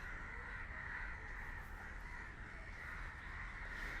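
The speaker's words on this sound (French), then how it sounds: "Les oiseaux se réveillent en même temps que le coucher du soleil." Crows cawing at sunset outdoors, faint repeated harsh calls in the distance over a steady hiss of background noise.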